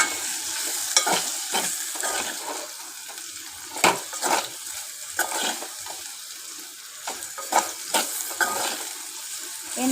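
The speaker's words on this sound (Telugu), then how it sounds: "బాగా కలుపుకోవాలి." Potatoes frying in a pan with a spoonful of chili powder are stirred vigorously, giving a steady close sizzle broken by sharp, repeated scrapes and clatters of the spoon against the pan, with no talking.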